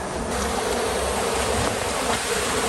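Honey bees swarm around honey-filled hive comb that is being pulled out, making a loud, dense and continuous buzz that stays close and unbroken the whole time.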